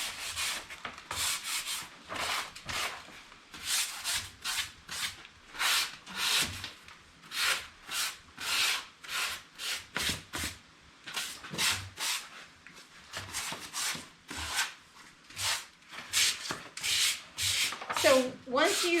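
Sandpaper scrubs rhythmically over a painted wooden rocking chair in a plantation style, dozens of quick back-and-forth strokes close to the mic, steady and raspy, with brief pauses between runs.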